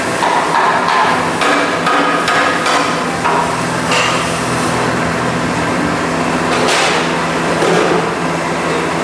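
Aluminum being hammered to bend a boat fuel tank part, with a series of sharp metallic strikes in irregular bursts over a steady background hum of the workshop.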